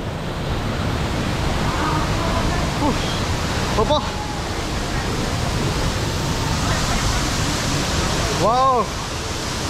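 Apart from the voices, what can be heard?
Nagalapuram waterfall, rushing water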